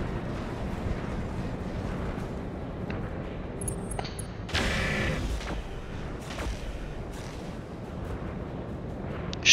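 Battletech mech weapons fire in a rumbling battlefield scene, with a broad burst of gunfire and impact about halfway through, laid over continuous low engine and ambient noise.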